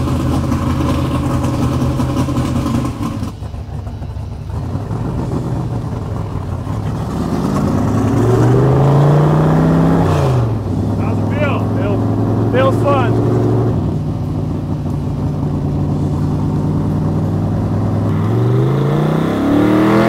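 A car fitted with a new Tremec TKO 500 manual transmission pulls away and revs through the gears, its engine rising and falling in loud, close sweeps, with people talking over it.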